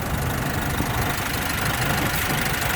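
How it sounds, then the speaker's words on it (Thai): A 2016 Isuzu D-Max Hi-Lander four-door with the 1.9 Blue Power diesel idles nearby, giving a loud, steady rumble with an even, slightly knocking clatter and no change in pace. "เครื่องไม่ไอไม่เกกไม่พ่นอะไรทั้งสิ้นนะฮะ"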